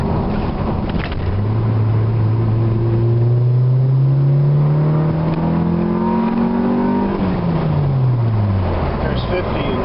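A Honda D15B engine exhaust revs up through the gears, its pitch climbing steadily for several seconds before dropping at a shift, loud and close while the car drives.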